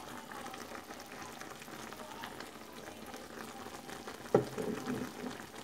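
Chicken afritada simmering in a pan with a steady bubbling hiss, then a brief splash and sizzle near the end as tomato sauce is poured in, loud and close.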